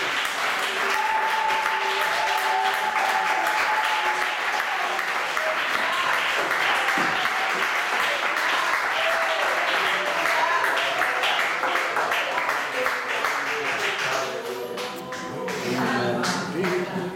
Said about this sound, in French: Applaudissons le Seigneur pour cette fois.